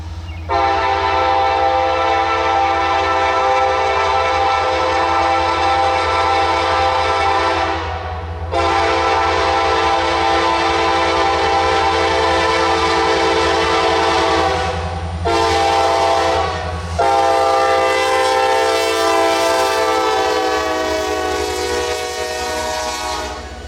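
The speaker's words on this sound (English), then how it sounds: "Brickyard crossing when the gates activate as N55 heads upgrade." Freight train N55 climbing upgrade past the Brickyard crossing in Altoona, loud and close, with a sustained horn-like tonal blare over rumbling cars, briefly breaking twice and then resuming strongly.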